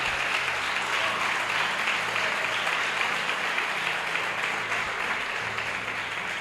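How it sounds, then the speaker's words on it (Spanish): A church congregation applauds, a loud, dense, sustained clapping that fills the room evenly for several seconds. "Dar un aplauso al Señor"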